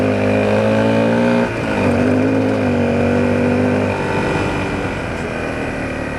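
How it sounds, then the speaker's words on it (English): A Honda CRF250L dirt bike engine runs loud and close as the rear slides on dirt, its buzzing single-cylinder note dipping and rising with throttle over several seconds before fading slightly. "Just practicing trying to slide the rear out a little bit to aid in cornering."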